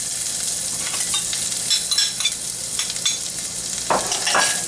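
Onion and garlic cooking in a pat of melted butter in a hot pan make a constant bright sizzle, with occasional stirring scrapes near the end; close and loud, no voices.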